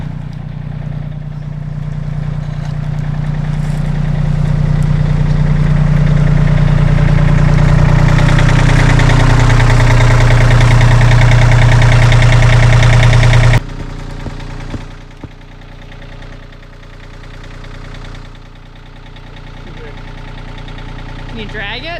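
A heavy tractor engine runs loud and close on a small North Idaho farm, its pitch shifting as it works pulling out old trees and stumps, then cuts to a quieter idle rumble.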